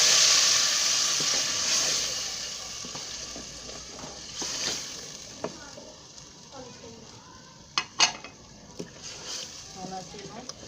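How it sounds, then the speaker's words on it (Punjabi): Mashed saag greens hitting a hot pan of reddened ginger and garlic in a village kitchen, a loud hiss and sizzle that fades into steady frying with scattered stirring clatter. "ਹੁਣ ਅਸੀਂ ਇਹ 'ਚ ਪਾਉਣ ਲੱਗੇ ਹਾਂ ਘੋਟਿਆ ਹੋਇਆ ਸਾਗ"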